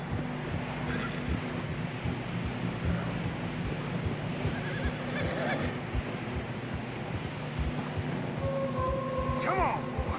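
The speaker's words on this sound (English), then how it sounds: "Horses are getting tired." Horses in Red Dead Redemption 2 whinny and neigh through snowy terrain, with a steady clip-clop of hooves under wind and a game score; a few voices talk over it now and then.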